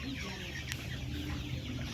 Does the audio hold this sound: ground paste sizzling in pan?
no